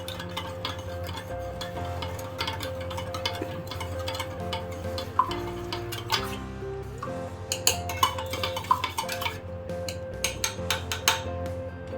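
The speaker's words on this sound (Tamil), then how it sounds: "மிக்ஸ் பண்ணிடலாம்" A spoon stirring a magic milk cough remedy in a cup, giving light rapid clinks and ticks against the sides, denser toward the end, over a steady background hum.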